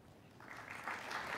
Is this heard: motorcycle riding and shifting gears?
no